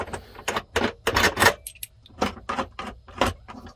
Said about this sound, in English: You just throw your bolts on the floorboard there.